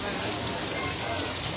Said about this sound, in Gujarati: મોરબી શહેરમાં અત્યારે વરસાદ વરસી રહ્યો છે